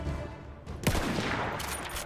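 Lever-action rifle gunfire in Battlefield 1 sounds as a few quick, moderately loud shots over a busy battle background, with no talk.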